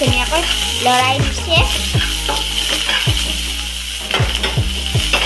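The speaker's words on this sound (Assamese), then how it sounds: "লৰাই দি আছে যাতে পিয়াজখিনি দবাই নাযায় তলত লাগি নাযায়" Onions stirred while frying in hot oil in a pan for Hakka noodles, a loud steady sizzle with repeated scraping strokes of a spoon against the pan, close up.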